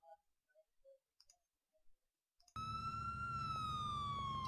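A police siren suddenly blares loud and close after a few quiet clicks, holding a steady high wail to the end.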